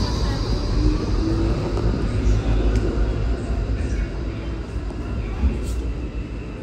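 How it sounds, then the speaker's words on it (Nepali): Trains at a railway station in Europe, a continuous low rumbling roar of passing rail cars heard close and loud throughout. "3टा ट्रेन आइसक्यो हाम्रो आएन"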